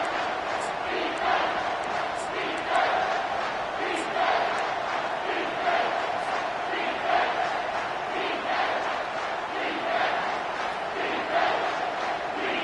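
A stadium crowd in an American football video game roars without a break on a third down, with a dense, steady wall of cheering and chanting and gentle swells throughout.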